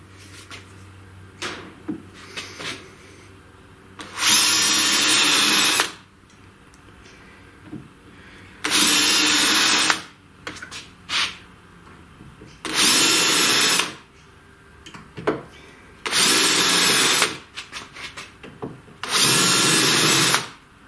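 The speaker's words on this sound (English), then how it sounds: "So then I can drill the drilling size to thread it, which in this case is 5 millimeters." A power drill bores 5 mm tapping holes in parts for a homemade CNC router gantry, five loud whirring runs of a second or two each, separated by clicks and handling noises in a workshop.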